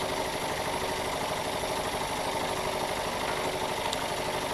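A Jensen 50 toy steam engine heated by an electric element runs at a steady pace, giving a constant mechanical chugging whir with a fast, even beat and no pauses.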